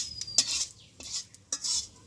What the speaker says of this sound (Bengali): কয়েকটা জিরা ভাজা নিচ্ছি আমি